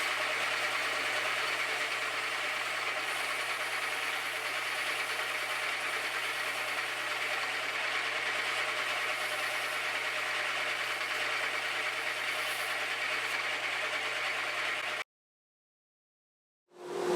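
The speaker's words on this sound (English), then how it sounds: "So we'll go over to the disc sander now, and I'll cut that arc." A disc sander cuts an arc into the bridge plate of a D-45 copy acoustic guitar, a steady, loud motor whir with dense grinding hiss that holds unbroken for about fifteen seconds, then stops abruptly into silence, with no talking.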